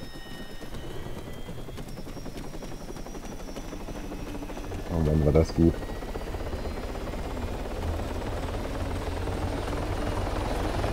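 Helicopter in the video game Altis Life, a steady droning rotor and engine hum that continues throughout, briefly overlaid by a louder burst of other game sound and someone speaking German.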